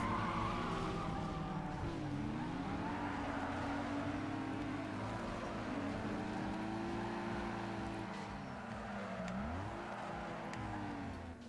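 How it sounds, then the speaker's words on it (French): A car drifts in the racing video game Need For Speed Underground 2. The engine holds a steady drone that swoops up and down as the throttle changes, with a hissy tire-squeal texture behind it. The sound is faint and continuous throughout. "Ah oui, c'est du drift."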